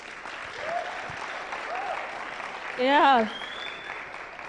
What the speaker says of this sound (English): You can clap for Jean.